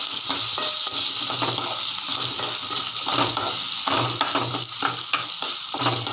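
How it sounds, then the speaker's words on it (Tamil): Chopped onion and garlic fry together in hot oil, a steady close sizzle with repeated scraping and stirring strokes throughout. "இந்த வெங்காயம் பூண்டு ரெண்டையும் ஒன்றா போட்டுக்கலாம் இதுங்க ரெண்டும் நல்லாமே எண்ணெயில் வதங்கட்டும்"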